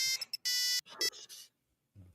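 Loud electronic beeps and tones from a phone ringtone or alarm sound in quick bursts close to the mic and stop abruptly, followed by a short silence and a faint low noise.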